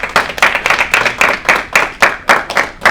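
Audience applause at a networking group gathering, a short burst of close, crisp rhythmic clapping from a small crowd, loud and continuous with no talk.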